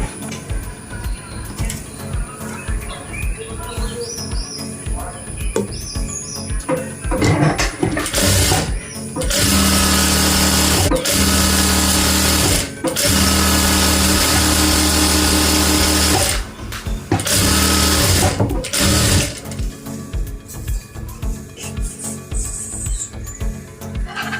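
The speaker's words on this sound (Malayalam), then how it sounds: "അതിനു മുമ്പ് നമ്മൾ ഈ വെച്ചിരിക്കുന്ന സംഭവം ഇതേപോലെ ഒരുമിച്ച് വെച്ചിട്ട് ഒന്ന് സ്റ്റിച്ച് ചെയ്ത് കൊടുക്കാം." Sewing machine stitching palazzo pants fabric, a loud close whirring run in the middle for several seconds with a short break, framed by quieter intermittent machine noise.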